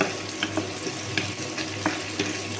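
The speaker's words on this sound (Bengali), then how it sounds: "পেঁয়াজটা ভাজা হতে থাক" Chopped onion frying in a pan, a steady close sizzle with occasional soft ticks and scrapes, no voices.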